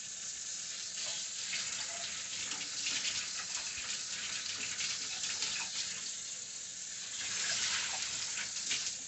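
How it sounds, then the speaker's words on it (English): Hot water pours steadily from a tap into a pot, a continuous hissing splash that swells and eases slightly, with faint clinks of metal. "I gotta put some hot water and some vinegar and let it soak."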